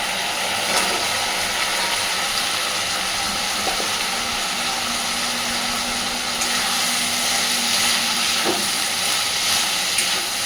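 Fried soybean chunks dropped into sauce in a pan give a steady, loud sizzle and hiss that runs unbroken throughout, close up, with no one talking.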